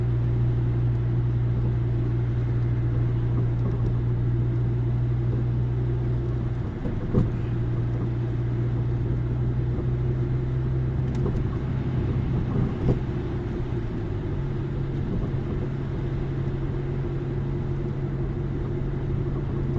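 A car drives on snow-covered roads during snowfall in Paradise, Newfoundland, heard from inside as a steady low engine and road rumble with a constant hum, a couple of brief thumps, and a slight drop in tone near the end.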